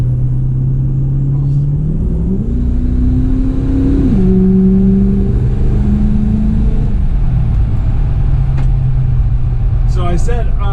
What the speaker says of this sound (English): because the truck shifted into overdrive, then it did downshift then